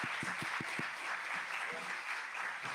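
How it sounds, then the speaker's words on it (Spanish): Audience applause after a lecture at a law conference, steady broadband clapping from a crowd, fairly distant, with a few distinct nearby claps early on and faint voices underneath. "Un aplauso, por favor."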